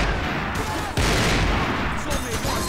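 Machine gun fire in Max Payne 3, a dense sustained burst of loud rapid shots with a brief gap then a second continuous volley, close and overwhelming.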